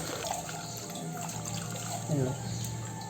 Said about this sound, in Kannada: ಆಮೇಲೆ ಇದಕ್ಕೆ ನೀರು ಹಾಕೋದು ಇದು ನೆನೆಲಿಕ್ಕೆ ಇಡೋದು